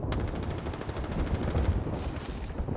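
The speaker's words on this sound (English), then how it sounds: "Somebody shooting you from my turret?" Rapid machine-gun fire from a mounted turret in a first-person shooter game, a steady burst of closely spaced shots running through the whole stretch at moderate loudness, with no talking.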